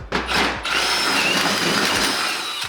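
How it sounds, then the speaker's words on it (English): A power drill with a 1/2 inch bit whines loudly as it bores out a metal car steering spindle, starting with a brief burst, then running continuously at high speed. "grab yourself a 1/2 inch drill bit and just drill this spindle out really fast"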